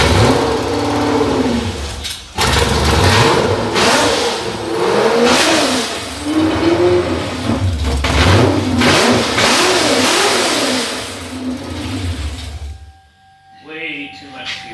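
An LS V8, its heads flowed backwards with small valves and running rich, revs hard and loud for about twelve seconds in repeated rising and falling bursts, then cuts off abruptly; voices sound faintly beneath.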